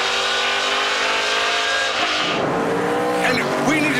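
On-board a NASCAR Pinty's Series race car at the Toronto street circuit, the engine drones loudly and steadily, then shifts and revs with tire squeal as the car is driven aggressively through a corner.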